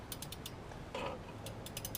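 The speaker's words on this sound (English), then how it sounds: "It's a little too loose to ratchet, so I got to try to work it." A ratchet works a bolt from underneath a 2005 Kia Sedona during a starter replacement, giving short bursts of quick clicking with a brief metallic rattle between them, close and fairly quiet.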